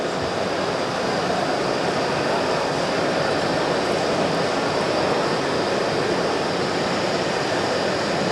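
Fibre blowing machine running its drive wheels slowly to push optical fibre through a tube at an FTTx demonstration, a constant loud mechanical whirr and hiss with no pauses, no talk.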